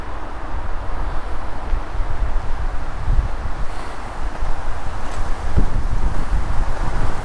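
Wind blowing outdoors at a nature center near a bridge, rushing and buffeting steadily against the microphone, with leaves rustling through the gusts and no voices.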